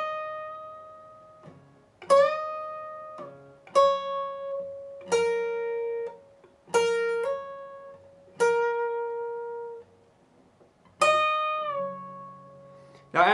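A guitar plays the opening of a solo slowly: single sustained notes with bends and slides, each picked about a second apart, clear and alone.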